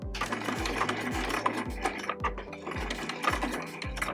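A sewing machine stitching a fabric star onto batting, rapid mechanical chattering in short bursts that start and stop about every half second, close and fairly quiet.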